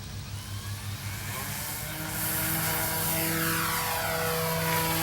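A twin-engine HC Hobby Mosquito RC model airplane runs its engines on the ground, a steady buzzing drone with layered tones that grows louder and fuller partway through.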